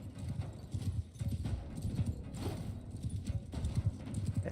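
Horse hooves of mounted archers pound in a steady, dense clip-clop in the Viking strategy game War Sails, loud and continuous, with a brief whinny and faint voices in the mix.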